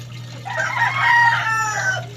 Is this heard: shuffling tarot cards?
no